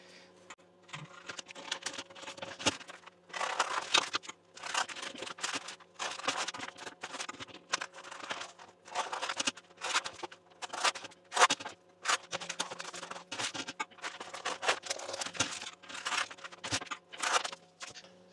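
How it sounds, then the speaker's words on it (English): Plastic bags cut up during meal prep make quiet, crisp snipping and crinkling noises in irregular bursts, close by and with no talking. "you just need to cut up a load of bags"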